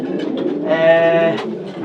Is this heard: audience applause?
no